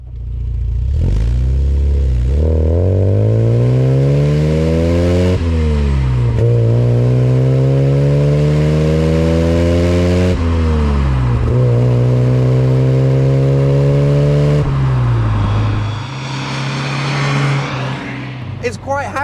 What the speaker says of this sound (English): Let's just do another run up through the gears and we'll see what 118 horsepower feels like nowadays.